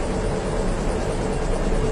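A steady, droning airplane engine rumbles continuously from start to finish in the video game SOS Ultimate Escape. The sound is broad and even, with no pauses and no voices.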